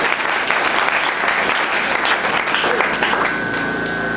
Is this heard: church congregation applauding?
yes